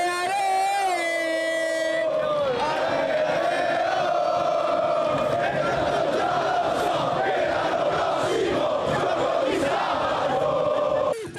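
A packed city square full of football fans welcoming their team, where loud crowd chanting and cheering merge with horn blasts and tonal toots, all dense and continuous throughout.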